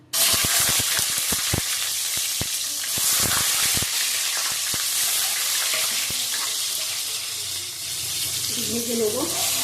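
Eggs going into hot oil seasoned with turmeric and salt, a steady close sizzle and spatter running throughout with scattered clicks and clatter, a voice speaking briefly near the end.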